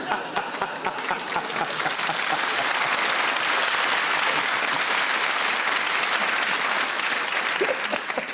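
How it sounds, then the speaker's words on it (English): Studio audience at a Channel 4 comedy panel show breaks into a loud, sustained round of applause that swells and holds steady throughout, thick and continuous with no voices on top. "I wasn't anticipating the round of applause"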